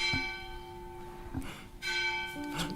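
Church bells ring in slow, resonant strokes, a few spaced hits with long humming decay, moderately distant.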